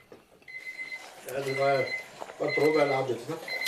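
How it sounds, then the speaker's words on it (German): A steady electronic beeping alarm from an egg cooker timer rings on and on while people talk over it nearby, in a helicopter air rescue crew's break room at breakfast. "Der erste Alarm des Tages ist der Eierkocher."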